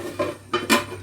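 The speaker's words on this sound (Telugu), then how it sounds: "మూత పెట్టేస్తున్నా." A metal lid is set onto a cooking pot of upma, making a few quick clinks and clatters close by within a second.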